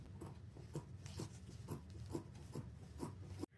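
Steady, repeated rasping snips of scissors cutting a fabric pattern for handmade bib overalls, a regular crunching rhythm close by with no talking.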